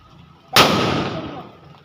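A single loud firecracker bang, close by, followed by a fizzing, crackling tail that fades over a second.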